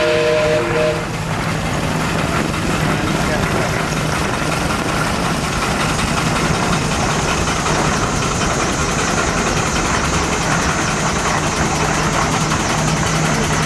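Frick steam traction engine, 12 horsepower, 7.5 by 9, running steadily at an outdoor steam expo, a loud continuous mechanical rumble and chuff with no talk over it.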